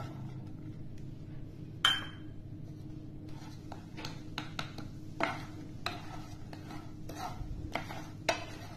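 Jaggery stirred into melted ghee in a pan for soft sesame and peanut chikki, with a soft scraping stir under low background hum and a few clinks and knocks of a utensil against the pan.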